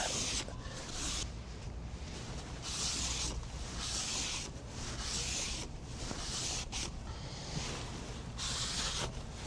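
Cockpit hatch being rubbed clean with rubbing alcohol, a soft steady scrubbing swish repeating in short strokes, fairly faint and close, with no talking.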